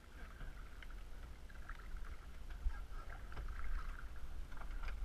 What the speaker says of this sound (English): You need to push off the right bank with your paddle.